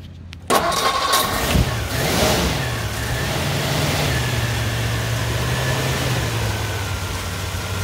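A 1953 Ford Victoria flathead V8 with an automatic transmission cranks briefly, fires up with a loud rev, then settles into a steady, smooth, deep idle close by.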